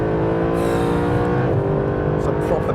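A Mercedes SLS AMG Black Series engine holds a steady, loud roar through a throttle-controlled slide, with faint tyre noise and someone talking over it.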